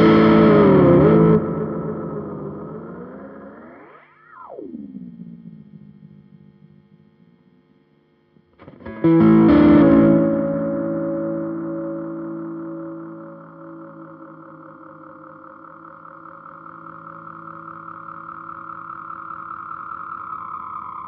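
Electric guitar through a NUX analog delay pedal with drive and maximum repeats, producing swooping, pitch-bending echoes that rise and fall, drop away, then swell back into a long sustained, wobbling wash.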